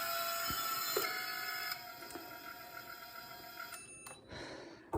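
Motors of an x500 quadrotor spin up with no propellers fitted, giving a faint, steady electric whine with several sustained tones, broken by a few small clicks and a shift in pitch near the end.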